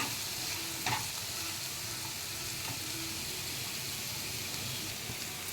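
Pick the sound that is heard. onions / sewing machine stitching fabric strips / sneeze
onions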